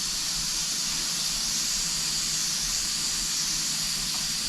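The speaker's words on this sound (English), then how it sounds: "you can hear a good flow of gas." Steady, fairly quiet hiss of gas flowing from a gas stove burner, continuous and even throughout with no voices.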